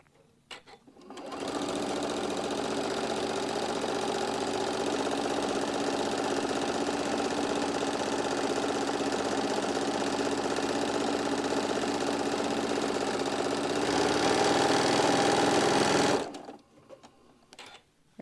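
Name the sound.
sewing machine stitching fabric pieces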